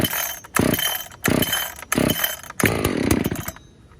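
A stock Husqvarna 576XP X-Torq chainsaw with an adjustable carb, a 24-inch bar and a new piston and rings is cold-started: four loud, rhythmic pull-cord bursts, then a longer sputtering run that fades out.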